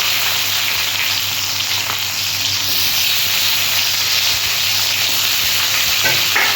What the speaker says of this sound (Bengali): এরপর আমি পেঁয়াজটা দিয়ে দিচ্ছি।